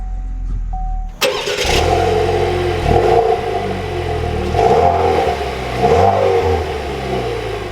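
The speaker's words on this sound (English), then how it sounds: "with my foot on the brake, we can start it up" A 2021 Chevrolet Camaro 1LS engine cranks and fires, then revs loudly up and down several times from idle, close and alone.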